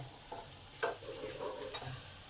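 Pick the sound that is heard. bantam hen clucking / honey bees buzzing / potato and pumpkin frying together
potato and pumpkin frying together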